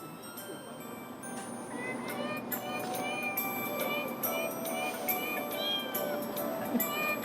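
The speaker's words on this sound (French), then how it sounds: "c'est un chant traditionnel pour le Nouvel An chinois. Sauf qu'on l'a fait chantonner par des chats, par des miaulements de chats." A traditional Chinese New Year tune performed entirely with cat meows, bright mewing notes following a melody over a busy backing track with chiming ticks, playing continuously at moderate loudness.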